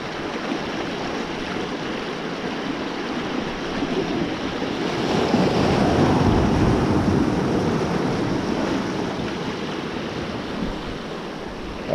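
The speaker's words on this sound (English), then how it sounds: "That's the tide turning now. Little bit of swell coming in." Sea waves and swell roll onto the shore as the tide turns during a bass lure fishing trip. The surf is a continuous, fairly loud wash that builds slightly toward the middle, with wind noise mixed in.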